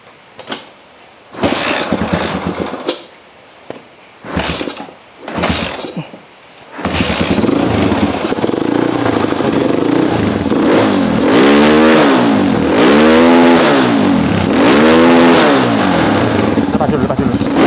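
Motorcycle engine cranked over a few times in short bursts, then catching and running continuously with repeated revving swells, loud and close, outdoors at a home.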